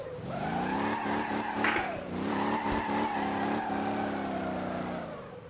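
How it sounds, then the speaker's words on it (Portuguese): Car engine revving in Motor Town: Behind The Wheel while drifting without a handbrake, a steady loud motor drone with shifting pitch, brief squeals and bumps, and occasional faint voice in the background. "Caramba, queimação de pneu é algo, hein?"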